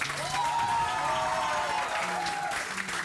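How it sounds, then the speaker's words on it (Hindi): Studio audience of Dawood Engineering College students applauds on a morning TV show, a steady dense clapping wash with a sustained tone and some crowd noise running throughout. "आप लोग सबसे पहले तो अपने लिए तालियां बजा दें"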